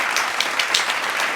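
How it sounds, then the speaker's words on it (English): A round of applause for a woman celebrating a spiritual milestone, dense steady clapping from a small group that stays close and fairly loud throughout, with no voices over it. "So another round of applause for your girl."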